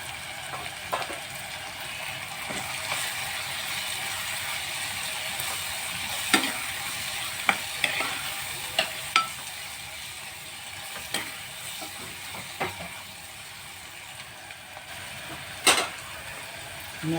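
Spices including turmeric, garam masala and salt fry in a pan for eggplant bharit, a steady close sizzle with scattered clicks and scrapes of a spoon stirring.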